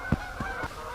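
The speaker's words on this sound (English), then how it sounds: "Except for the geese." Geese honk three times in quick succession, moderately distant and faint, over a quiet outdoor background at a rest area in cold weather.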